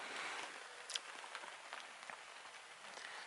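Steady rain patters on a tent with a wood stove during year-end winter camping, a dense, even hiss throughout with a few slightly louder drops, no talk.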